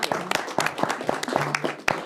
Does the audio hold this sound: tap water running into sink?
no